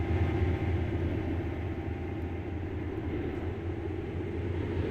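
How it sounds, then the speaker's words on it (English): A train rolls through a station in the Roblox Stepford County Railway game, a steady low rumble of wheels and motors that stays loud and even throughout, with no voices. "The train now approaching Platform 5 does not stop here."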